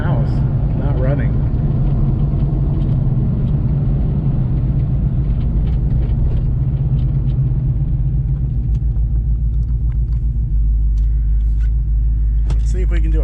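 A nitrous-injected New Edge Mustang project car on the road gives a heavy, steady low exhaust rumble from inside the cabin that stays constant throughout.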